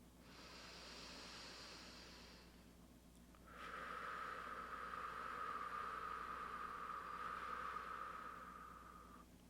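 Slow, deep breathing during a guided meditation: one long, soft airy inhale, a short pause, then a longer hissing exhale, close and quiet over a faint background hum.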